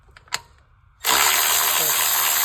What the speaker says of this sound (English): I'm gonna go ahead and finish unbolting this intake.